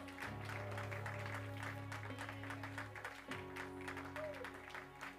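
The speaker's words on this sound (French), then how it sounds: "Can we clap the Lord for our choir?" Congregation applause for a church choir during a Sunday service, steady clapping that is fairly quiet and blends with sustained keyboard tones beneath it.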